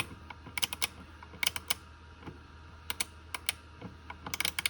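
Sharp, light clicks come in quick irregular bursts from a 72-tooth quarter-inch ratchet being turned, close and fairly quiet against a low background hum.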